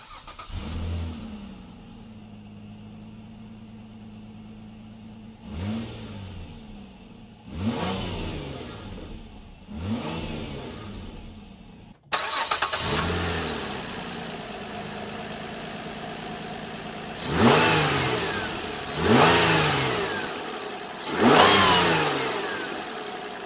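A 2004 Nissan Maxima with a 3.5 liter engine cranks and starts, then idles between several short revs that rise and fall, heard up close with no talk.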